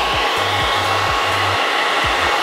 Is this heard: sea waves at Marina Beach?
no